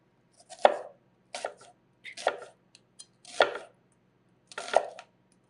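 A knife chopping an onion on a board for a Southern chili, five distinct crisp cuts at a slow, steady rhythm, close and clear with quiet gaps between.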